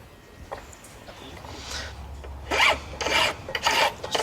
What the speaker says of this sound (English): Just filing off the edges a little.